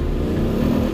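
Motorcycle engine straining and revving as it struggles to climb a steep slope on Cerro Pital in El Salvador with a worn, smooth tire, a loud, close, continuous roar with a rising pitch and no talk.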